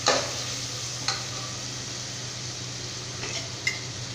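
Mushroom biryani masala with curd is sautéed in a pressure cooker, a soft steady sizzle broken by a few sharp ladle scrapes and clinks against the metal.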